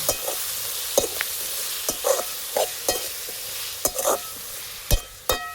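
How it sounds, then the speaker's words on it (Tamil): Eggplant pieces sautéing in hot oil in a village-style kitchen, a steady sizzle broken by repeated scraping and stirring clicks of a spoon against the pan. "அவ்வளோ போட்டுட்டு வேகலை எண்ணெயில் வதக்கிக்கலாம்"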